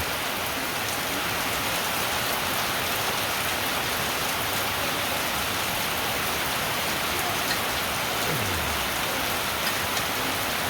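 Heavy rain pours down steadily, a dense, even roar of drops drumming on surfaces throughout, loud and close with no break.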